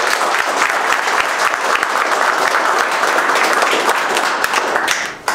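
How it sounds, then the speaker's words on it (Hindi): Loud, sustained applause from a large crowd at a counseling class, steady dense clapping throughout that fades out abruptly at the end. "और एक बार जोरदार ताली अपने आने वाले"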